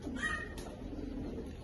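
Fancy breed pigeons, fantail and Frillback types, softly cooing in a loft, with faint low coos repeating under steady background noise.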